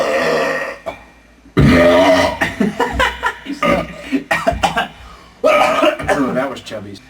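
A man lets out loud, throaty belches, several drawn-out croaking burps in a row, broken up by short bursts of chuckling and talk between them.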